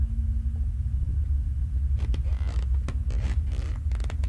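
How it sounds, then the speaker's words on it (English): Floorboards creak in the horror video game Obsideo, a run of sharp, close wooden creaks over a low rumbling ambient drone. "I hear the floor creaking."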